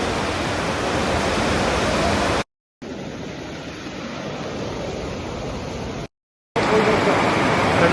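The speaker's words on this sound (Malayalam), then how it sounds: "ആ ലെവലിലാണ് ഇപ്പോൾ വെള്ളം ഒഴുകുന്നത്." Floodwater roars through a river swollen by a landslide at Chooralmala near Mepadi, Kerala: a loud, steady broadband rush that continues almost without pause, broken only by two brief cuts.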